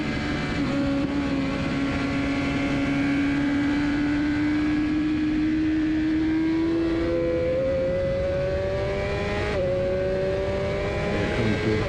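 A 2021 Honda Fireblade HRC superbike engine screams steadily during a club race at Nelson Ledges, its high pitch climbing smoothly through the gears with brief dips at shifts, loud and close throughout.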